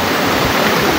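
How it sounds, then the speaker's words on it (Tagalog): Clear water flows down a stream, a steady, loud rushing wash of broadband noise with no breaks, close by and alone. "Yan ang gagaling dyan na tubig. Ayan o. Ito rin yun. Diretso yan dyan sa baba."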